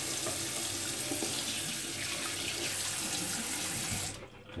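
Water runs steadily from a tap in a close, continuous hiss and splash that holds for about four seconds before cutting off near the end, with no voices.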